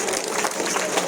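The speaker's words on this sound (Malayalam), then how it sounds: "എല്ലാവരും കൈയടിച്ചോ" An Easter church congregation applauds, a dense spread of many hands clapping at once, close and fairly loud, with voices mixed in beneath the clapping.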